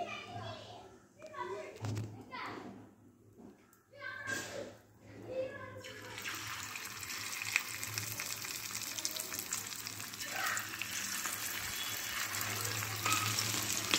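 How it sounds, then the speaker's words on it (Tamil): Fish frying in hot oil for a meen varuval. Voices talk over soft background noise at first, with a child among them, then a loud, steady, close sizzling crackle takes over and continues to the end. "மீனை அப்படியே போட்டு பொரித்து எப்படின்னு காமிக்கிறேன்"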